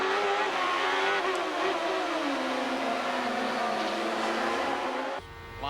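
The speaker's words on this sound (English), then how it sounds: "You can hear the engine accelerate." Onboard a CART race car, the engine screams at high revs as it accelerates, pitch climbing and shifting through gears, loud and close, then cutting out abruptly near the end.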